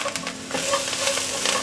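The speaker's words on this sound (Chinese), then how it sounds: "快速翻炒" Sweet potato and shiitake mushrooms stir-fried in oil in a wok, a dense continuous sizzle with quick scraping tosses of the spatula, loud and close, without any talk.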